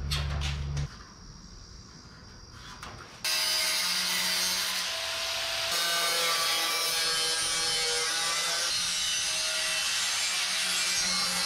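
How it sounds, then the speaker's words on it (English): A corner radius tool rounds the edges of a piece of wood in a workshop, giving a steady bright scraping rasp that starts softly and then runs loud and continuous for several seconds. "we need to, some edges. Oh, Robert, grab me my corner radius tool."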